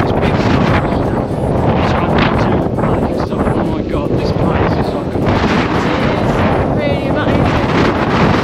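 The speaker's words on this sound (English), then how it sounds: "The wind's picked up now." Strong wind buffets the microphone on a mountain hike toward Pulpit Rock near Stavanger, Norway, a loud continuous roar that stays heavy throughout with only slight surges.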